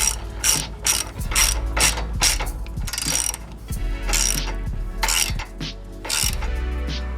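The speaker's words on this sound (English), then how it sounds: "It's a 19 millimeter." A hand ratchet with a 19 mm socket tightens a tie rod nut on a car, giving repeated quick bursts of metallic clicking strokes, close and fairly loud, with brief pauses between the swings.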